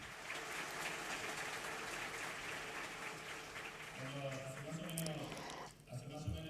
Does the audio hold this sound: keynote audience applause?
yes